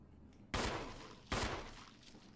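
Two loud gunshots from the Resident Evil HD Remaster video game, about a second apart, each sharp and booming with a decaying tail, alone without talk.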